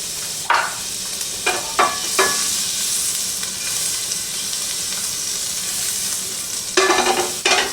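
Butter sizzles in a hot pan while cooking southwest beef tacodillas, a bright, steady hiss close up with a few sharp clatters of a spatula or pan scattered through it, and no talking.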